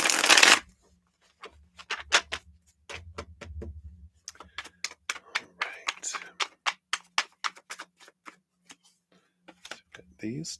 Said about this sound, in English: Shuffle these up.